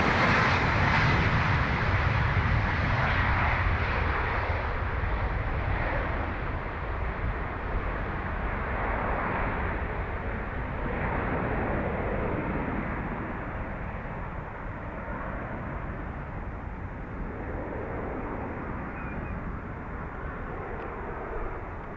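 An Antonov An-124 heavy-lift cargo jet taxis at Dublin Airport, its engines giving a continuous loud broadband roar that slowly fades somewhat over the stretch, with no voices.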